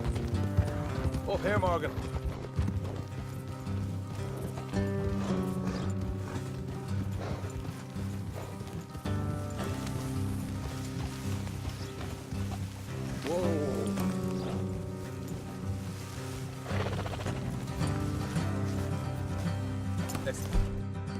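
Horses trot and gallop along a trail in Red Dead Redemption 2, a steady run of hoofbeats under a music score, with one horse whinnying and characters talking over the ride.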